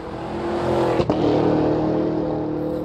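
A Cadillac Escalade-V's supercharged 6.2-liter V8 engine drones and revs steadily, close and loud, with a brief sharp click partway through.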